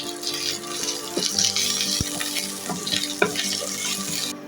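Grated ginger frying in hot oil for moong dal, a bright continuous sizzle with occasional stirring knocks and scrapes of a utensil in the pan, close and loud, with no talking.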